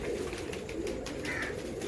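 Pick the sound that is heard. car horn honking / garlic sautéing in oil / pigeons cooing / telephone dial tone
pigeons cooing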